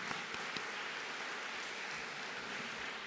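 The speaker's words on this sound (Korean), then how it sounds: "우리 찬양단과 성가대에게 감사의 박수 한번 드려볼까요?" Steady, dense applause from a church congregation, a continuous wash of many hands clapping at an even level throughout.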